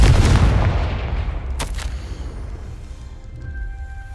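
A Confringo blasting spell goes off in Hogwarts Legacy, a loud booming explosion at the start that rumbles and fades over a few seconds, followed by a short sharp crack and a faint ringing tone.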